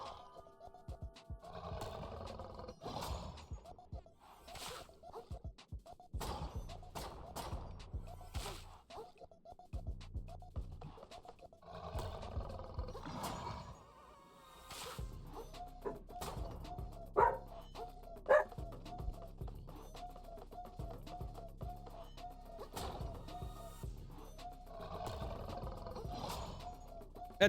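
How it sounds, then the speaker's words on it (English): A dog barks repeatedly in the background, somewhat distant and moderately loud, in irregular bursts spread over the whole stretch beneath quieter game sounds. "That dog's barking in the background."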